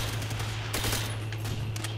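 Rapid automatic gunfire from the World War II shooter game World at War crackles in dense bursts over a steady low engine drone. Mid-distance and continuous, no voices.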